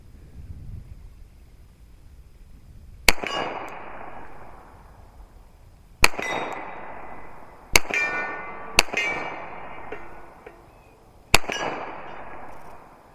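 Remington R1 1911 pistol fired at steel target pins 30 yards out, five sharp, loud shots at uneven intervals, each followed by a ringing clang and a fading echo, with no talk.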